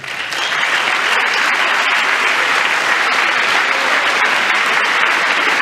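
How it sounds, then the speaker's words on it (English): Members of Congress applaud during a presidential joint address, a dense, steady burst of clapping from a large chamber crowd that swells in quickly and holds loud and even throughout. "I think it's gross that Congress claps for this"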